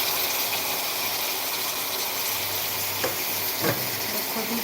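Cut and washed cauliflower sizzles in a pan for aloo gobi, a steady dense frying hiss with a couple of brief stirring scrapes, close and unaccompanied by speech.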